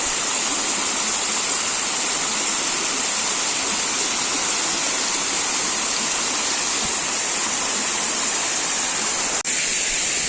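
A rushing waterfall in monsoon rain in Konkan roars as a loud, constant, close wash of water that holds steady throughout.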